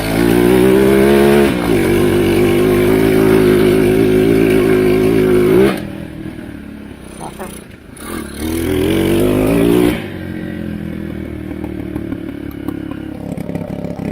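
An abandoned Chinese ATV engine that sat unused for seven years runs loud and close, a buzzing rattly drone that dips and sputters in the middle, then comes back before settling to a lower idle.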